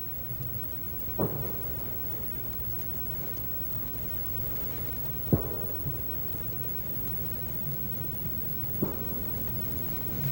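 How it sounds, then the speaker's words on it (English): Heavy rain pours down in a constant hiss, with three dull thumps spaced a few seconds apart. "The way the rain was coming down"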